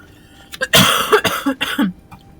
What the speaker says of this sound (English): Making me cough and choke.